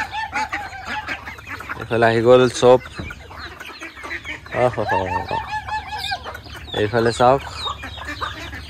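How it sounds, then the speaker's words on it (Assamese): Chickens and chicks in an Assamese village yard cluck and cheep busily in bursts while being fed grain, close by, with a woman calling to them. "এইফালে মা এতিয়া দিব মুৰ্গীক"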